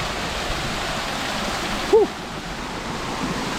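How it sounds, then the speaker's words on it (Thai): Constant hiss of falling water, a steady broadband rush like a nearby waterfall, with a brief voice-like blip near the middle. "เป็นม่านน้ำตกเลยตรงนี้"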